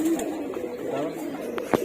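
Pigeons in a racing loft, among birds just returned from a 25-kilometre race, coo in low murmuring tones, steady and close, with a few brief sharper calls near the end.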